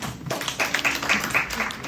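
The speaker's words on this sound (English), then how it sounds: "let's once again give our speakers a round of applause" A round of applause for the speakers at the close of a Women in Tech event in Manila, with clapping and a bit of chatter underneath that fills the whole stretch at a moderate level.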